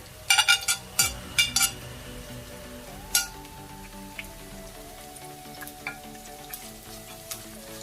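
Chopped shallots tipped into hot oil in a pan for a Kerala-style prawn roast, giving a loud burst of sizzling and spattering that settles into a steady, softer fry, with no talk.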